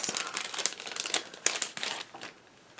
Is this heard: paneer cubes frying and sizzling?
no